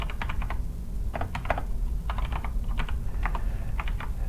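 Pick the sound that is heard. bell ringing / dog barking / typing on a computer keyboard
typing on a computer keyboard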